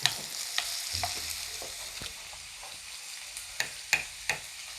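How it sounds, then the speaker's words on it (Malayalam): Chopped onion, ginger and green chilli sauté in a pan, a soft steady sizzle broken by scattered stirring scrapes and a few sharper clinks near the end, close and fairly quiet with no talking. "നമ്മുടെ സവോളയും ഇഞ്ചിയും പച്ചമുളകും ഒക്കെ ഒന്ന് വഴന്ന് വരുന്നുണ്ട് കേട്ടോ"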